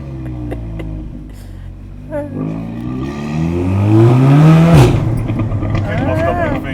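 A 550bhp car's engine revs and builds in pitch while driving through London, rising to a loud peak before settling, with passengers talking over it close by inside the cabin.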